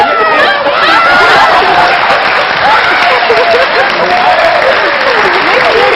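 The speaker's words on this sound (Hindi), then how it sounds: "तो आप ताली बजा दें" A studio audience at a comedy talk show bursts into loud, sustained applause, mixed with whistles, whoops and scattered cheering that fills the room without letting up.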